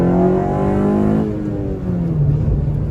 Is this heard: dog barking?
no